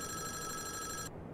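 A telephone rings in the Five Nights at Wario's video game, a steady electronic bell tone held for about a second before cutting off, with a low background hum underneath.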